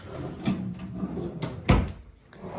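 A drawer in a remodeled Disney resort hotel family suite slides and bumps shut, with a soft rumble of runners followed by a sharp thud, close by in a quiet room.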